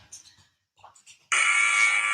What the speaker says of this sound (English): Ignore my buzzer.